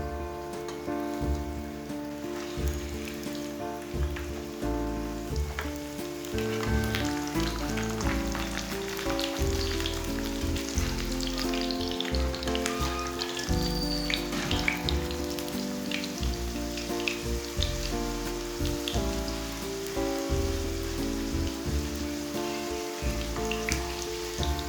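Keema roti samosas fry gently in a pan over a low flame, giving a soft, steady sizzle like light rain, constant and close for the whole stretch with no voices over it.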